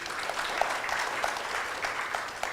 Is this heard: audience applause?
yes